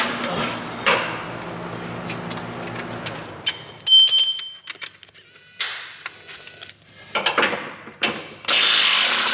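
A ratchet works on the cradle bolts of a Chrysler 300 Scat Pack 392 during powertrain removal, giving bursts of quick clicking mixed with metallic clanks, scrapes and pauses in a garage.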